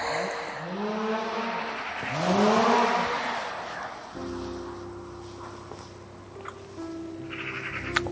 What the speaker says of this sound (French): Les oiseaux c'est beau, mais les bruits moteurs, peut-être ça dérange